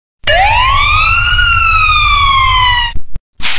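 A police car siren in a cartoon animation wails loud and close in one long sustained rising and falling tone, then cuts off abruptly with a brief burst of noise after it.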